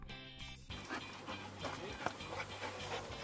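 Fire brigade search dog of a marine firefighters' canine team pants rapidly and steadily up close, with a steady hum and some movement noise underneath.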